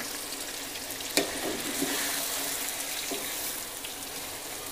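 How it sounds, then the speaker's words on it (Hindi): Chicken karahi with chopped ginger frying on full flame in a karahi pan, a steady loud sizzle with a sharp clatter or two from stirring. "5 से 7 मिनट तक जो है फुल आंच पे हमने इसको फ्राई करना है"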